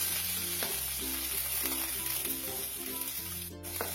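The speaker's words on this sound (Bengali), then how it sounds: "যতক্ষণ না রসুনের কাঁচা গন্ধটা যাচ্ছে ততক্ষণ একটু নেড়ে নিচ্ছি।" Crushed garlic sizzles steadily in hot oil in a pan while being stirred, with soft scraping strokes and clinks over a constant, close frying hiss during preparation of banana-flower cutlets.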